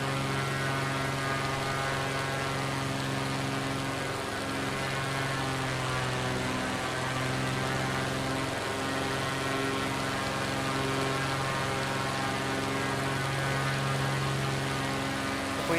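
A propeller aircraft engine runs at 80% throttle in Microsoft Flight Simulator 2024, a steady loud droning hum with layered tonal whine, constant and unbroken from start to finish, with no talk.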